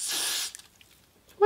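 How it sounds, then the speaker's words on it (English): A short close hiss of Got to Be hair spray from an aerosol can, lasting about half a second, followed by quiet rustles and the start of a voice. "I'm spraying my Got to Be on here as well."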